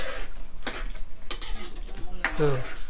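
Spoon stirring mushroom soup in a cooking pot, with several scraping and clinking strokes against the pot and a soft simmer underneath, close up with faint talk nearby.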